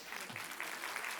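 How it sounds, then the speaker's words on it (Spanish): A church congregation breaks into a short burst of applause during a sermon, a soft, dense patter of clapping heard from a distance and somewhat muffled. "denle un aplauso"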